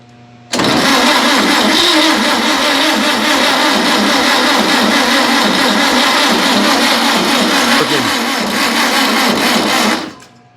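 An engine on a project build with a working accelerator pump catches and starts, then runs loud and steady for about ten seconds before cutting off abruptly.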